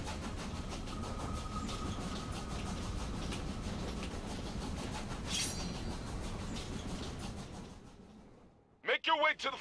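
Moving train in the video game Senpai is Dead, a steady rumbling clatter of wheels on rails with rhythmic clicks, loud and continuous before fading out, with a voice speaking over the end.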